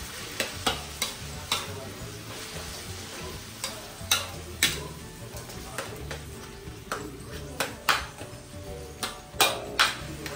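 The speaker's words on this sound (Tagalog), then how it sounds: "So haluin na natin ito." Ground beef seasoned with fish sauce being stirred in a pan, with repeated sharp spatula clacks against the metal over a low sizzle, close and fairly rhythmic, with a faint voice now and then.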